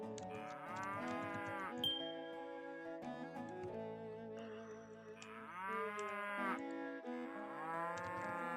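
Cows moo repeatedly in Farming and Friends, a farming video game: several drawn-out, tonal bellows rise and fall, some overlapping, clear and close, with no talk.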